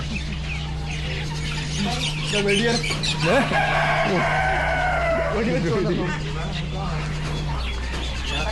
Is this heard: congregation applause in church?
no